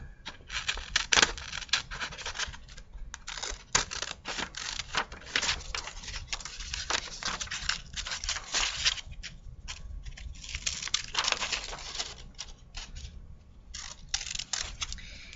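Scissors cut a rectangle from a half sheet of white paper, a rapid run of crisp, close snips and rustles that pause briefly now and then.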